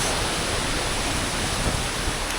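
A steady, dense rush of a waterfall in Patagonia, Tierra del Fuego, roars continuously and evenly, loud and close, with no voices.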